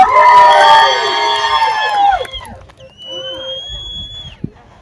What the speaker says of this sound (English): Judges, did you hear the yell?